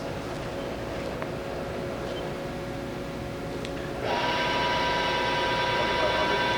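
A 2007 Haas VF6/40 vertical machining center starts up partway through. A steady mechanical hum is joined by a louder, sustained whine as the spindle comes up to speed, close and continuous, with no talk.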